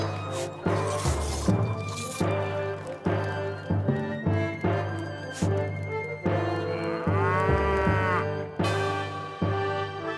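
Several lowing cow calls in a medieval strategy video game, deep and drawn out, sound one after another over a busy layered background, with brief clanks and splashes between them.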